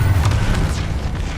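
A Confringo explosive spell goes off in Hogwarts Legacy, a loud, dense boom that stays rumbling and roaring across the whole short moment and fades slightly toward the end.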